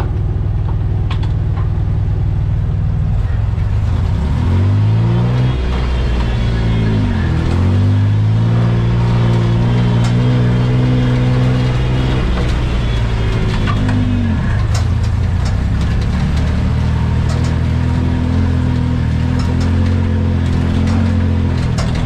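A Jeep fitted with a Dauntless 225 V6 and a Ford T18 transmission is out on a test drive. The engine stays loud and close for the whole stretch, climbing through repeated gear runs with revs rising and dropping, and no one speaks.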